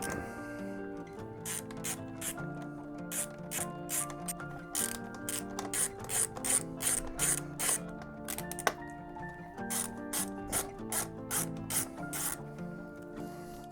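A ratchet tool clicks in quick, repeated bursts while removing cover plate bolts on a Kawasaki Vulcan S motorcycle, each run of metallic ratcheting followed by short pauses.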